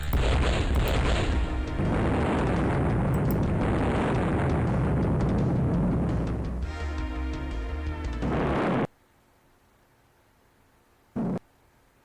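Explosion in a video game, a loud, sustained roaring blast with rumbling and crackling debris that cuts off abruptly, followed by near silence and one short thud.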